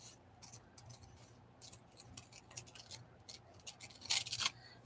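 Scissors snip through paper in quick irregular cuts, crisp close snips scattered across the stretch with a louder flurry near the end, faint and with no talking.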